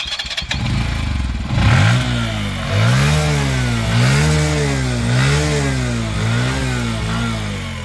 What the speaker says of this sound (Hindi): एग्जॉस्ट का जो साउंड है वो कुछ है ऐसा